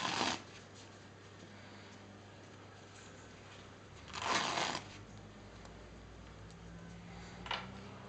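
Vet wrap bandage is pulled off its roll and wound around a dog's leg, giving three short crackling tearing bursts against a quiet background.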